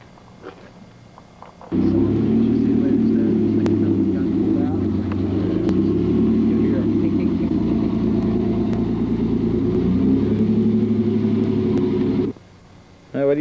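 A car engine, a custom build called the Devil in a Blue Dress, runs with a steady low rumble while being driven. It starts abruptly, holds loud and close for about ten seconds, then cuts off.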